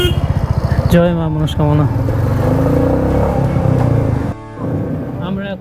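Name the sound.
Royal Enfield Meteor 350 motorcycles riding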